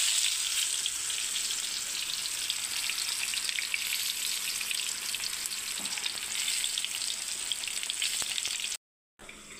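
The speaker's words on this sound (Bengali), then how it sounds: "আবার বেগুন ভাজাটা হচ্ছে বন্ধুরা" Eggplant slices frying under a lid in a covered pan, giving a steady, dense sizzle that runs evenly and close throughout, with a brief break near the end.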